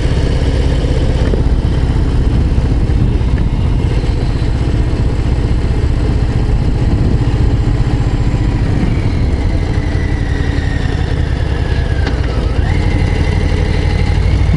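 A Harley-Davidson Low Rider ST motorcycle engine idles steadily at a stop on a mountain road near Col de la Colombière, a continuous close, loud low rumble that holds even for the whole stretch.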